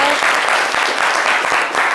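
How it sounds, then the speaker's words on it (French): A live studio audience on a French-language midday show applauds a young guest, a brief burst of loud, dense clapping that fills the whole moment. "va applaudir Romé, s'il vous plaît."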